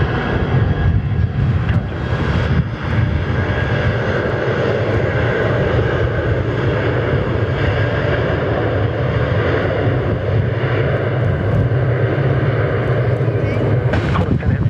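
An Airbus A340 jet at Perth Airport gives off a continuous, loud engine roar that holds steady throughout, with a voice talking over it.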